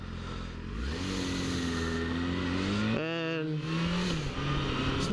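A 2005 Yamaha FZ6 600cc motorcycle under way, its engine revving up through gears with rising and falling pitch, loud and close over wind rush.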